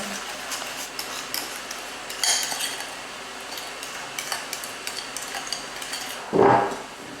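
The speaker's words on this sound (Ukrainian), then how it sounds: "Розмішуємо і замішуємо вже тісто." A spoon stirring a sugar and egg mixture into crumbly shortcrust dough in a bowl, a steady soft scraping with light clinks and a brief louder scrape near the end.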